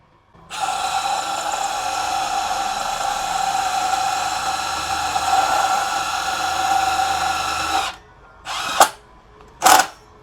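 A Milwaukee M12 Gen 3 stubby impact wrench (FIW2F12) in auto mode on roofing work gives a loud, steady high whine for about seven seconds, then cuts out on its own, followed by two short bursts.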